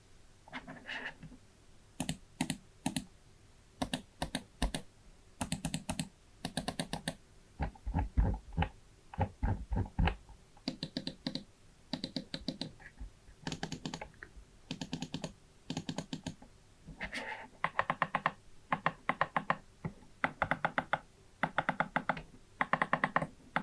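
Fantech Helios gaming mouse with Huano switches being clicked, sharp crisp clicks in rapid irregular bursts with short pauses between, close and alone.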